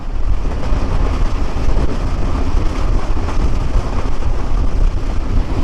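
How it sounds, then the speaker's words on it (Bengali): Aboard the Chilahati Express as it races a Shyamoli bus, a loud, continuous rumble and roar of the moving train fills the clip with no voices. "এখানে বাসের সাথে এক্সপ্রেস ট্রেনের রেস চলতেছে শ্যামলী পরিবহনের সাথে সিলাটি এক্সপ্রেস ট্রেন"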